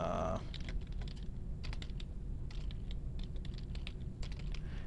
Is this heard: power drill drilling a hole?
no